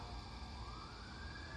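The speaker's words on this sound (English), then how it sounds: "There are some emergency vehicles around, and that's the siren." An emergency vehicle siren wails outside on a road, a faint, distant rising tone over low steady rumble.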